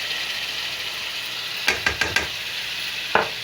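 Garlic ginger paste frying with browned onions in a pan, a constant loud hissing sizzle broken by several quick scraping stirs of a spoon, close up.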